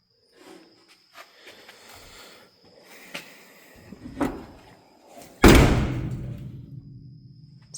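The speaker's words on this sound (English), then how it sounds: "Solid doors, close very nicely." Doors of a 1955 Dodge Coronet gasser project closing, a few soft clicks and handling noises, then a sharp solid slam near the end with a ringing thud and decay.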